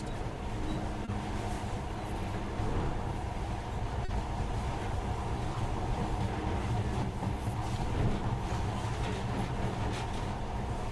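Monorail train running in the video game Metro Last Light Redux, a steady low rumble and rolling drone that holds evenly throughout without pause, close and continuous.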